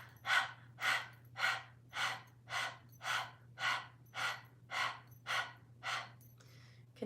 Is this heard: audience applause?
no